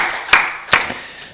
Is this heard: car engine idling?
no